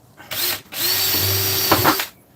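Power drill boring rivet holes into an Airstream trailer's aluminum endcap: a brief whir, then a sustained loud high-pitched spinning whine for about a second and a half, close by, with no talking.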